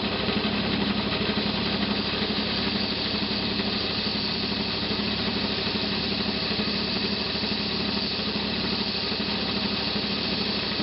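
A belt grinder runs with a steady, continuous mechanical whine and hum while turquoise teardrop stones are cut and shaped for a petit point bracelet. The noise stays loud and unbroken throughout, with no voices.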